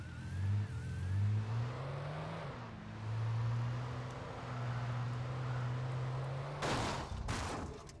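Car engine in the Alan Wake video game, a steady low hum rising and falling in pitch as it drives, with a couple of short bursts of noise near the end.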